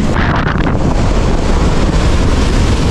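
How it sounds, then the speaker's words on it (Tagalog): Strong ocean waves crash at the shore at Infanta, Quezon, a loud, dense, continuous roar with heavy wind buffeting the microphone throughout. "Lakas ng alon."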